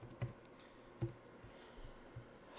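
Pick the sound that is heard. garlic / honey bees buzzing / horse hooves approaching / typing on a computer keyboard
typing on a computer keyboard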